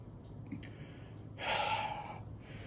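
Someone breathes heavily after an ab workout, with soft breaths followed by one louder, drawn-out exhale in a quiet room.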